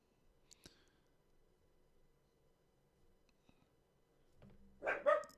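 A dog barks a few times near the end, a short burst of close, loud barks after a mostly quiet stretch with faint clicks.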